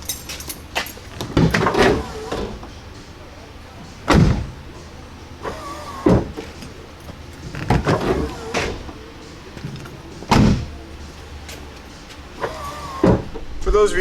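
Rock Slide Engineering powered step slider on a truck deploying and retracting as the doors open and close, with repeated motor whirs, clunks and door thuds, and someone speaking between them.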